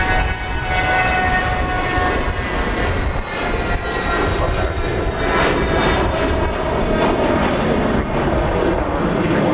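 An aircraft departs from Dallas Love Field with a loud, sustained jet engine roar close by, a dense rumbling and whining sound that holds steady throughout with no voices.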